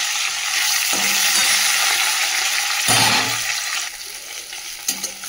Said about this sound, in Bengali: মাছটা ভেজে নিই, ছোটো সাইজে দিয়ে, বেশি বড় না